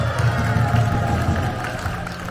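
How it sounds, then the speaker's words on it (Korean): Crowd at an outdoor rally in Cheongju calling for a president's impeachment, applauding and cheering in a steady, dense wash of clapping with a low rumble of many voices. "우리 정대태 회장님이랑 소리소리 조심님께 다시 한번 뜨거운 박수 부탁드리겠습니다"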